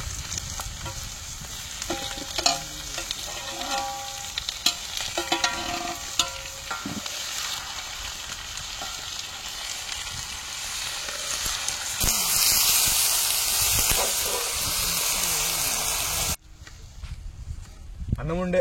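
Chicken fries and sizzles in a pan while being stirred, a continuous close crackle with scraping stirs, under intermittent talk in a home kitchen, growing louder near the end.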